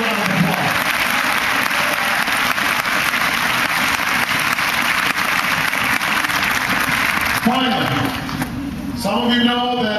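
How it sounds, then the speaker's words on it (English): A crowd at an Iowa caucus campaign event bursts into loud, sustained applause that fills the room, then thins out near the end as a voice begins speaking over it. "Give yourself a big round of applause."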